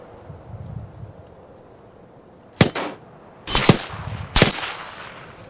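ArmA 3 gunfire: a sharp single shot, then a rapid burst of several loud cracks and another volley, fairly close, separated by quiet rustling background.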